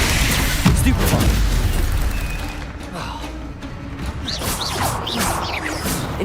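Incendio fire spell cast in Hogwarts Legacy, a loud booming, crashing burst with crackling energy that fades and then swells again, heard under speech.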